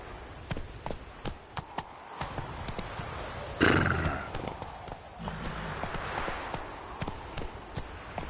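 Roach, Geralt's horse in The Witcher 3: Wild Hunt, gallops with steady rhythmic hoofbeats and snorts, and a brief whinny rises midway, close and clear.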